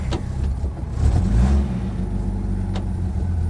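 An old Chevy C10 truck with manual steering rolls in to park, its engine rumbling steadily up close, with a brief rise in revs midway.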